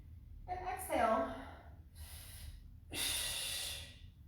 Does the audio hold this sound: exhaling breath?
yes